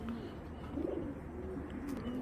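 A large female Giribaz pigeon coos in low, soft repeated calls, close by and alone against a faint background hum.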